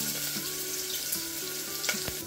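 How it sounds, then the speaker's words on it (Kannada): Sliced onions sizzle steadily in olive oil over medium heat, a soft, continuous frying crackle with a few brief pops and no voices. "ಮೀಡಿಯಮ್ ಹೀಟ್ಗೆ ಇಟ್ಕೊಂಡು ಆನಿಯನ್ ಹಾಕ್ತಾಯಿದ್ದೀನಿ"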